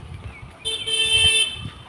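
A vehicle arrives on a village road among jackfruit trees and gives one clear, fairly close horn toot lasting under a second.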